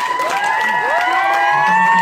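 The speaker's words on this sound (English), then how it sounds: "Round of applause for Jack" At a talent show on a ski trip, a close, lively crowd cheers and whoops with shrill high-pitched yells over scattered clapping in a short, dense burst.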